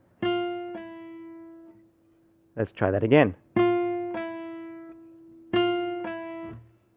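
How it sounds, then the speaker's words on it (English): Quiet guitar notes plucked on F then quickly pulled off to a lower ringing E, repeated a few times, with a brief spoken phrase in the middle. "we're going to pull off to the E."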